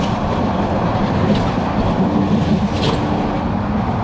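A train pulls into a station in Bangladesh with a continuous heavy rumble and rattling of rail cars, loud and close, with faint clicks over the steady roar.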